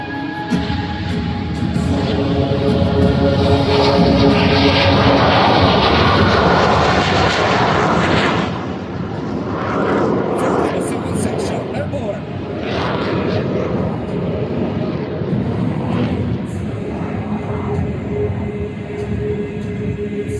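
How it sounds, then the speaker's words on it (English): Ten-ship formation takeoff of the Frecce Tricolori Italian jet display team at the Cold Lake air show, a loud sustained jet roar that swells, then eases and keeps rumbling, with an announcer speaking over it. "Ladies and gentlemen, this is a 10-ship formation takeoff."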